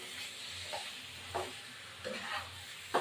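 Chicken curry being sautéed in a pan while it cooks down, with a soft steady sizzle and occasional scraping stir strokes, heard close and fairly quiet.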